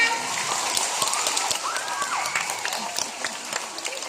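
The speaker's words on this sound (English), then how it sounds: "Come on, clap your hands. Louder." Scattered clapping from a crowd at a sea lion show, fairly steady and close, with a brief tonal sound in the middle.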